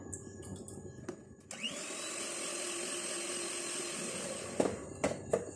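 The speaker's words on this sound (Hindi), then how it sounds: "इसको हल्का सा बीट कर लेते हैं" An electric hand beater whips oil into chocolate cake batter, its steady motor whine starting after a few faint knocks and running for several seconds before louder clatters at the end.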